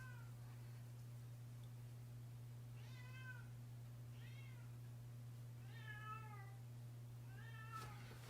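A pet cat meows several times indoors, short plaintive calls spaced a second or two apart over a steady low electrical hum, fairly faint and alone without any talking.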